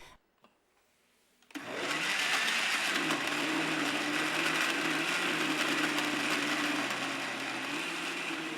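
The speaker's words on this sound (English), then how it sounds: "Now blend everything together until you have a well-mixed liquid paste." Countertop blender whirring steadily as it purees curry paste ingredients with a quarter cup of water, starting abruptly after a quiet moment and running loud and constant with a high mechanical whine.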